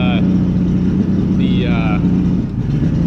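A 1985 Mercury outboard engine idling during carburetor fuel-air screw tuning, a steady close drone with a constant low tone, and a brief high whine sweeping through mid-clip.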